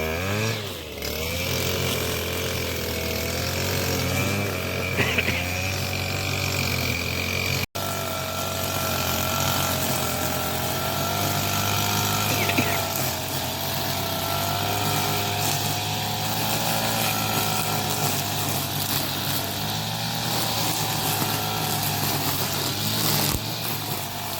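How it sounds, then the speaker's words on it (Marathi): A grass cutter's engine whines loudly and continuously on a Konkan farm, its buzzing pitch wavering slightly as it cuts grass, with no voices over it. "तिकडे कटर लावता म्हणजे गवात कापता"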